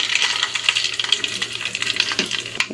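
Whole tempering spices hit about three spoons of hot oil for a gongura curry, making a continuous close hiss with scattered small pops and crackles over a few seconds, no voices.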